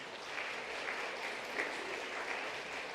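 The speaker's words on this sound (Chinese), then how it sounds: "我们为他们拍手鼓励一下。" Church congregation at a Sunday worship service applauding together, a steady dense clapping from many hands in a large room, continuing evenly throughout without talk.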